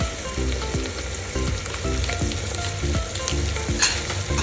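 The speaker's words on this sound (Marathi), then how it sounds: "आपले मसाले छान फ्राय झालेत" Spices with turmeric and biryani masala fry in a pan, a loud, close sizzle broken by regular scraping stir strokes, with no speech.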